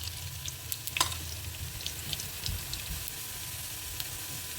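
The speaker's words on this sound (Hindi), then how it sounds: "इसको हल्का सा तड़का लेते हैं।" Steady crackling sizzle of whole spices including dried coriander frying in hot oil for Kabuli pulao, with occasional sharp pops and light stirring scrapes, no voices.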